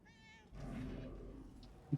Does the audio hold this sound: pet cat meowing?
yes